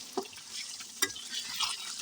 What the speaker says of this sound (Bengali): এই যে লবণ আর হলুদ দিয়ে ডিমটা একটু ভাজা ভাজা করে নিচ্ছি।